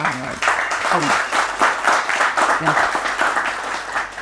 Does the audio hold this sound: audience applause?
yes